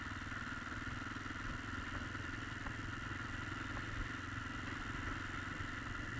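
An SWM 650 R motorcycle engine hums steadily during a road test ride, a continuous mid-pitched drone with light clatter, heard from the rider's position at a constant level throughout.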